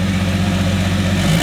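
A turbocharged Ford AU Falcon 4.0L Intech six-cylinder running with no intake pipe fitted, a steady, loud, close idle drone with a low throbbing pulse, no talking.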